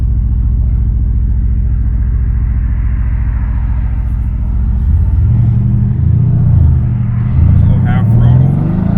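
A twin-turbo V8 Mercedes-AMG GT R with 600 wheel horsepower rumbles steadily from inside the cabin, then its engine note swells and rises in pitch as it accelerates at half throttle, with people talking over it.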